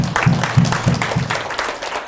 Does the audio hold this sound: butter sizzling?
no